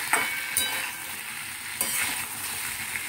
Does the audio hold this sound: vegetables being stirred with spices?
yes